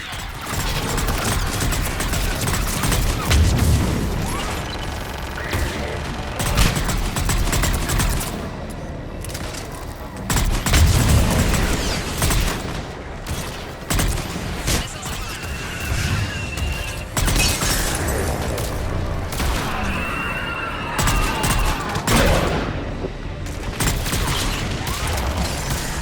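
Missile launches and heavy gunfire in the video game Mass Effect 3, a loud, continuous barrage of booms, crashes and mechanical rattling with repeated bursts and impacts.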